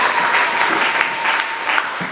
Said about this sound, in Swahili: Pigie Yesu makofi mengi namna hii.